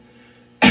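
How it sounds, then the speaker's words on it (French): A single forceful cough bursts out suddenly at the very end, loud and close, after near silence with a faint hum, as part of a vigorous coughing demonstration. "commencer tousser avec force, avec vigueur et continuer à tousser vigoureusement."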